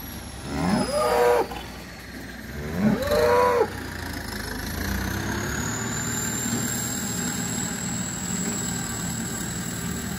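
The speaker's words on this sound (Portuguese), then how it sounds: "Aqui tá o gado que come um tratinho." Farm cattle eating feed, including a cow close to calving, give two close, loud moos in the first few seconds, followed by a steady low engine-like hum.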